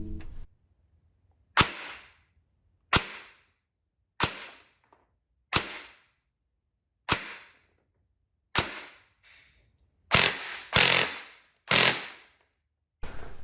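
Airsoft gun with a freshly built Retro Arms DSG gearbox test firing 0.28 gram BBs, about ten sharp, loud, close single shots spaced roughly a second apart, with a quick double near the end and silence between.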